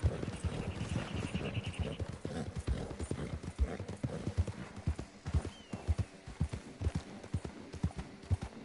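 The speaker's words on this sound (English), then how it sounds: "you're riding a horse." Horse hooves clip-clop steadily while riding in a PS4 video game, a continuous rhythmic trot of close, moderately loud hoof strikes with a brief whinny-like tone early on.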